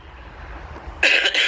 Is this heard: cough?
yes